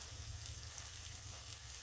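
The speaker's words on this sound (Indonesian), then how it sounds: "Lalu tumis sebentar hingga aromanya keluar." Spice paste with lemongrass, bay leaves and lime leaves sautéing in a pan for nasi kebuli, giving a steady, even sizzle close by with no voices.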